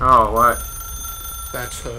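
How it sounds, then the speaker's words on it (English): A telephone rings in The Stanley Parable video game, a steady bell-like tone heard under someone speaking briefly over it. "Oh, that's the phone."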